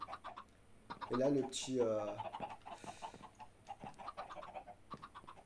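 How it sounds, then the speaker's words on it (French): Chickens cluck in the Minecraft modpack Skyfactory 2, a few short clucks at moderate level while someone talks in French over them. "les petits poulets qui vont bien"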